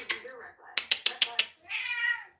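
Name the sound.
cat meowing angrily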